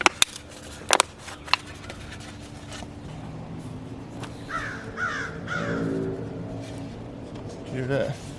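Crows caw from a distance over a corn field, a few harsh calls rising through steady outdoor noise, with a couple of sharp knocks early on and people talking nearby.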